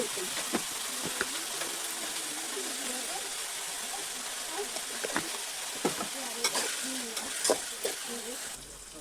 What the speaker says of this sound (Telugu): ఉల్లిగడ్డ అనేది మనకు కొంచెం బ్రౌన్ కలర్ వచ్చేదాకా వేపుకోవాలి.